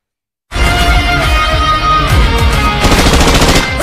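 Gunfire from the Dagi movie teaser bursts in suddenly and stays loud and dense, a continuous rattle of rapid shots for a few seconds.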